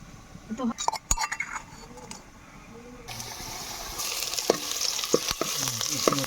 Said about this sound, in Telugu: ఆయిల్తో ఈ ఉల్లిపాయలు మిరపకాయలు అయితే వేయించుకుంటున్నాము అండ్ అలాగే వెల్లుల్లి అల్లం ఇది కూడా మేము కలుపుతున్నాము